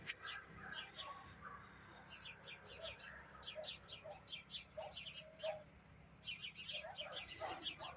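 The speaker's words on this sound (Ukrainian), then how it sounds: "Горобці співають" Sparrows chirp in quick, busy bursts, several birds at once, fairly close, over a quiet outdoor background in a narcissus valley in a Ukrainian village.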